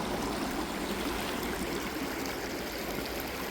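River water flows steadily in a Polish river, a continuous close rushing and trickling wash with no break and no voices.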